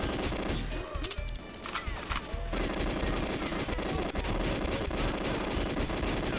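Sustained automatic gunfire from the Frigate level of GoldenEye, loud and dense throughout, with rapid overlapping shots and a brief lull midway before the barrage resumes.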